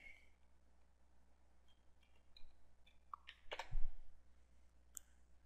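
A computer mouse clicks a handful of times at a desk during screen recording software work, with sharp, sparse, close clicks including a quick cluster near the middle over a quiet background hum.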